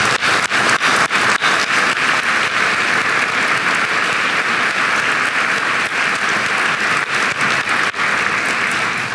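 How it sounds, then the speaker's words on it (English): A graduation crowd gives a sustained round of applause, dense and loud with sharp individual claps standing out, steady for the whole stretch. "Let's give her a round of applause."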